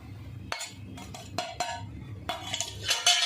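Sweet semolina sanza sweetened with jaggery stirred in a pan over low heat, a quiet series of spoon scrapes and metallic clinks against the pan, irregular knocks coming every half second or so, close and alone.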